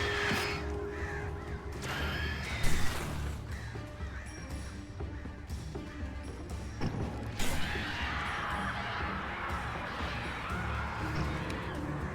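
Crows cawing in the video game Alan Wake: repeated harsh caws over a dense, rumbling game background, with a couple of louder thuds or impacts and sharp bursts breaking through midway.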